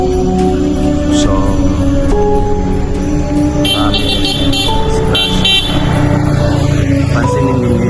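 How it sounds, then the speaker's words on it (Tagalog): Passing vehicles honk on a busy highway beside a huge balete tree, several loud horn blasts over a constant roar of close traffic, with someone speaking briefly. "pansinin ninyo yung mga sasakyan, bumubusi na sila."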